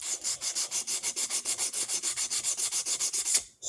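Sandpaper rubbed over a drum head in quick, regular back-and-forth strokes, about six per second, close and crisp with an even scratchy rhythm that stops abruptly near the end.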